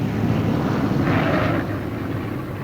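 A World War II bomber returns to land at a British airfield, its engines a steady, droning rumble that swells briefly as it passes, heard alone at moderate distance.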